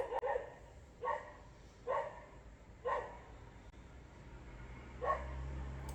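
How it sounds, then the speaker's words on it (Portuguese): A dog barks five times at irregular intervals, moderately distant and fairly faint, over a low steady hum. "abençoe esse cachorro pra que ele pare de latir"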